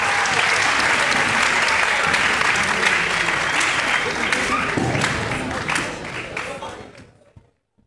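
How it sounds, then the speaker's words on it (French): Loud, dense applause from an audience at a school arts festival, sustained and full for about six seconds before tapering off into silence. "Sous vos applaudissements pour la première journée."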